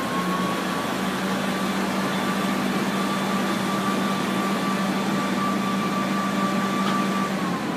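A 2000 Heidelberg QM-DI+ offset printing press running without plates or blankets, giving a steady, loud mechanical hum with a constant low drone and faint high whine, unbroken throughout.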